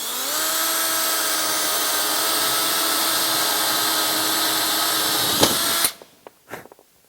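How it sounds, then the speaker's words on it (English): A power drill bores bolt holes through a barn door, a steady high whine running for nearly six seconds before cutting off abruptly, followed by a few light knocks and clicks. "You gotta make sure that when you drill the holes, you don't put them on the bottom."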